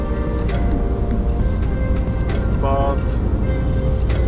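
A Scania truck's engine labours as it accelerates uphill on a wet Scottish Highlands road in rain and wind, giving a constant loud rumble with hiss from the wet road, while someone talks over it.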